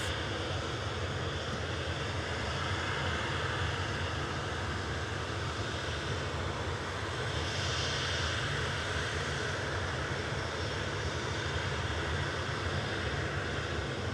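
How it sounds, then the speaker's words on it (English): An air tanker aircraft at Manchester Airport gives a steady, distant jet roar, a continuous broad rumble that swells slightly midway and carries on without break. "I can see the air tanker."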